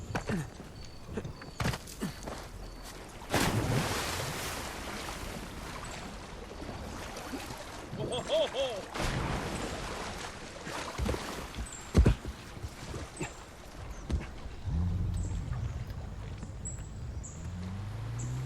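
A boat moves across the water in the Uncharted video game, with splashing and a low motor rumble under irregular knocks and clatters at moderate loudness.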